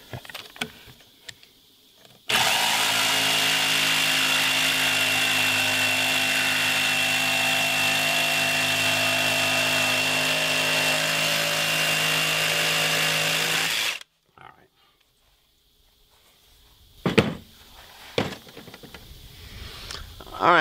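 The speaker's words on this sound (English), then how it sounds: "I'm going to cut this extra piece of wood off here" A power saw cuts off an extra piece of wood inside a 40-foot shipping container, one loud steady whine lasting about twelve seconds before stopping abruptly, followed by a few faint knocks and clatters.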